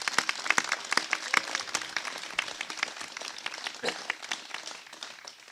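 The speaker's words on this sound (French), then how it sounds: "un tonnerre d'applaudissements" An indoor audience at a political round-table debate in Versailles applauds Ludovic Trollet, president of the IEPM, with dense, sustained clapping that slowly thins toward the end.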